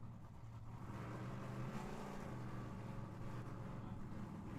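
A Chevrolet Malibu drag car at Tucson Dragway creeping into the staging beams, its engine giving a steady deep rumble from a distance, with no talk over it.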